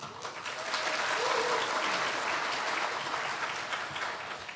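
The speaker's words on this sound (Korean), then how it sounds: "박수 한번 쳐주세요." Congregation applause in a church during a Sunday Thanksgiving service, sustained and even clapping from many people filling the room at a distance for several seconds with no talk over it.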